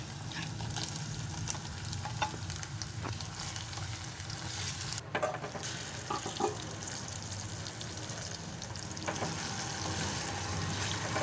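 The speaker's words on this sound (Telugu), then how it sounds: "ఇలా గోలినాక ఇందులో ఇప్పుడు చికెన్ వేసుకోవాలి." Chicken pieces frying in oil for a chana dal chicken curry, a steady broadband sizzle running throughout at moderate level with a few brief clatters and stirring sounds.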